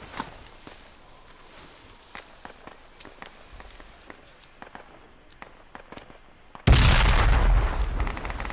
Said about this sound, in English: whose frag was that?